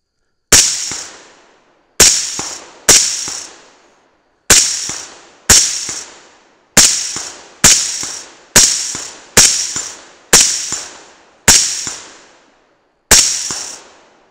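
Rifle shots fired one at a time during a long-range magazine dump in a tactical shooter game, about a dozen loud, sharp cracks with ringing decays, spaced roughly a second apart, with no talk over them.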